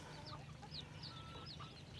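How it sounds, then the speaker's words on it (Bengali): Chickens kept in a village pen cluck softly, scattered short clucks and murmurs recurring several times over two seconds, faint and at a little distance against low background hum, with no talking. "এই পাশে হচ্ছে মুরগি পালে।"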